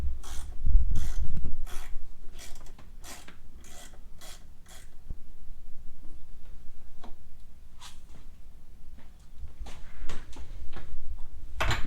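A ratchet works the gas tank bolts on an XR100R motorcycle, giving a run of close, rhythmic rasping clicks that slow into sparser ticks and scrapes against a low background rumble.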